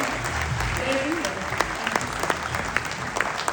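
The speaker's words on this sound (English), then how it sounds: "let's give a round of applause to Vivek Oberoi." Steady applause from a crowd after a speech at a BNI UAE anniversary event, with a few sharper claps standing out near the end.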